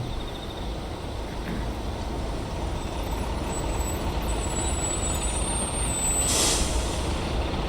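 A bus pulling up at a stop in a horror video game, steady engine rumble building over several seconds, then a sharp hissing burst of air brakes near the end.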